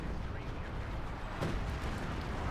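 Mortar fire in the World War II strategy game Company of Heroes 2: a low, continuous rumble of distant battle with a sharper burst near the middle.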